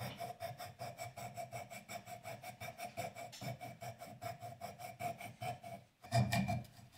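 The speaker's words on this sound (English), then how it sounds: "I'm going to use my coping saw to connect these two holes." Rapid, rhythmic rasping strokes of a coping saw cutting between two drilled holes in scrap wood, heard close and steady for several seconds before a brief pause and a louder final stroke.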